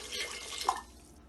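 Water poured from a cup into a cooking pot of chana daal with spices, a short splashing trickle lasting about a second with one brighter drip, close by.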